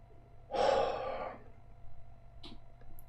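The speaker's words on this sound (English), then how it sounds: "Deep breath." A sharp, deep inhale drawn in close to the microphone, loud and breathy for about a second before fading, followed by faint small mouth sounds in a quiet room.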